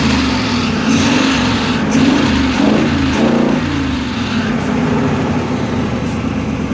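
A car engine revs up and eases back in a few rising surges over a steady low idle, close and fairly loud, with no voices over it.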